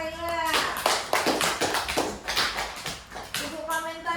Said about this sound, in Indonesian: Iya, tepuk tangan untuk Kayla.